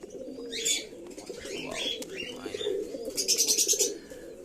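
Pigeons in a home loft coop at morning feeding time, cooing softly with a few chirps and a brief burst of rapid fluttering or rattling near the end, close and moderately quiet.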